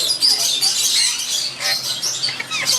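A pair of lutino ringneck parrots in a breeder setup give shrill, rapid chattering calls and squeaks, close and fairly loud, coming in uneven bursts.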